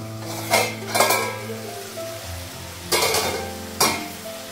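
Tomatoes and fresh green chillies drop into a hot pan in a home kitchen, giving loud bursts of sizzle at separate moments over a steady low frying hiss, with light clinks from the pan.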